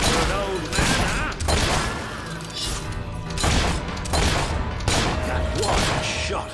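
Gunshots in the video game Fable 3: several heavy, booming blasts spaced a second or two apart over dense game noise and music, with voices present in the mix.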